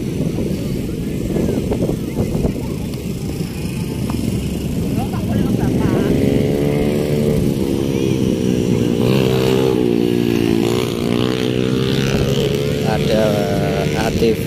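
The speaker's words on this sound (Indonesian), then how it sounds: "Ada ATV motor cross buat anak-anak" Small ATV motocross engines at Pantai Cemara beach in Tuban, East Java, drone and rev steadily with a rising buzzing pitch, loud and close, with people talking over them.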